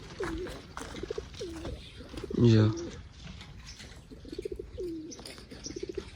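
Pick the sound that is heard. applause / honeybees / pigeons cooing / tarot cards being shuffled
pigeons cooing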